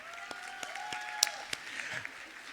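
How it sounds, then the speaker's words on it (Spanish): An audience applauds at a medical lecture on surgical wounds, a soft, steady patter of clapping with a few sharper claps standing out. "Un fuerte aplauso, por favor"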